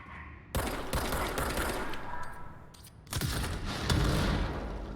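Bursts of rapid gunfire and heavy blasts ring out in the action video game Control, in two loud volleys separated by a brief lull, with booming impacts and no talk.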